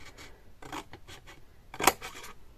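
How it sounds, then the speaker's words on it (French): Scissors cutting along the fold line of a paper card, several short crisp snips in irregular rhythm with one louder cut near the end, close and quiet, no speech. "Et ensuite on peut découper sur notre ligne de pli."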